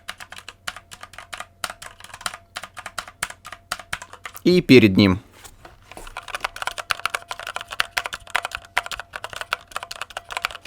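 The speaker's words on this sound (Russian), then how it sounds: "давайте проверим, как громко этот микрофон записывает клавиатуру, которую я буду нажимать на фоне за ним" Keys clatter steadily on a computer keyboard, typed first behind and then in front of a cardioid Fifine USB microphone, quieter from behind and louder from the front, with a brief spoken remark between the two passes.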